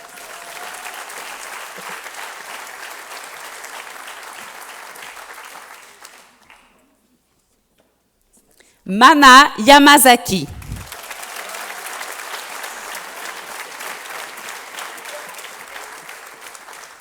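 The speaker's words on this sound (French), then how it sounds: "Applaudissons chaleureusement les finissantes et finissants du groupe 501." Applause from an audience at a college graduation ceremony, steady and sustained, briefly stopping to silence while a single name is read aloud, then resuming at full strength.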